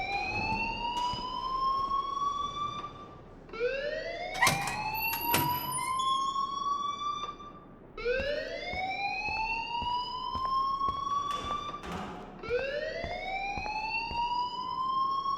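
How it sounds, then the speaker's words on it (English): A school alarm in the video game Life is Strange wails in repeated rising whoops, about four loud sweeping cycles spaced a few seconds apart, continuous and with no voices. "please turn off that alarm since that's your job"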